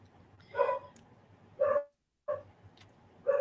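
A dog barks at a dog-friendly auction, four sharp yapping barks spaced about a second apart, close and fairly loud over low room hum with no speech.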